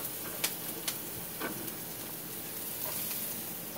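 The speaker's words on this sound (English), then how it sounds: "I'm going to throw the onions in first" Onions for a ham, Swiss and mushroom quiche fry in a pan with a soft, steady sizzle, broken by a few faint clicks and taps of utensils, with no talk.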